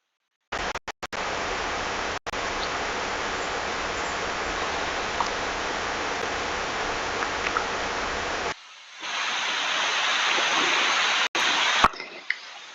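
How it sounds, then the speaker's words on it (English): River water flowing in an AI-generated animated image, a steady broadband rush that holds evenly, then shifts to a slightly brighter, thinner wash near the end. "you can definitely hear like the river like coming down"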